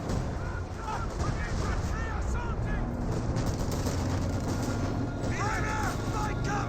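Continuous battlefield din of gunfire and artillery from a Company of Heroes 2 Spearhead mod match, with dense layered shots and booms throughout. Faint voices and tonal game sounds sit within the steady noise.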